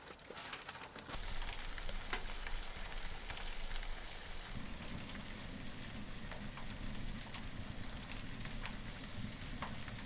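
Food sizzling steadily in a pan on a stove inside a Snowtrekker EXP Shortwall hot tent, a continuous close frying hiss that thickens and grows louder partway through, with no talking.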